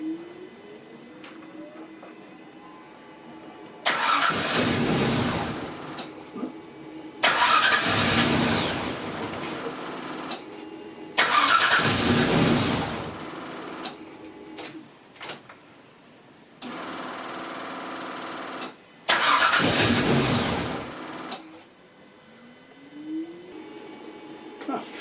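A Jaguar AJ30-powered restomod car starts and runs, its engine roaring up in several loud, close revving bursts separated by quieter idle stretches.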